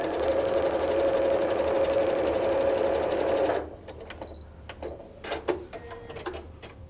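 A sewing machine stitches rows of a layered brick quilt, running at a fast, even hum for about three and a half seconds before stopping, followed by a few quiet clicks and handling sounds.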